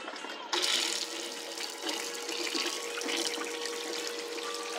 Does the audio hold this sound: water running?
yes